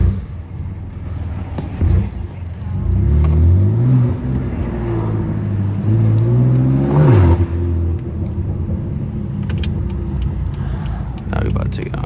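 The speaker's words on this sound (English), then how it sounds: "That exhaust be bouncing off the wall." A BMW F80 M3 Competition with a straight pipe exhaust revs hard on narrow city streets, loud deep rumbling rising and falling through several throttle blips and one sharp climb, echoing close by, with a voice talking briefly.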